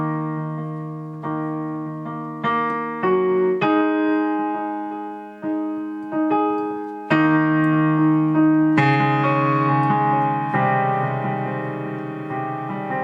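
Piano notes in the low register are struck one after another in a slow, sustained pattern, each ringing into the next, played alone with no voices.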